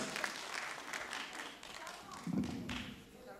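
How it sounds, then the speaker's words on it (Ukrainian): An audience claps steadily at a live university stage show, a dense wash of applause that carries on under voices and a raised presenter. "под ваши аплодисменты, Никита"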